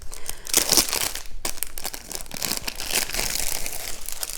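A package envelope being torn open and handled, holding a small 30 by 40 canvas, with continuous loud crinkling and crackling of plastic and paper, close up with bursts of tearing.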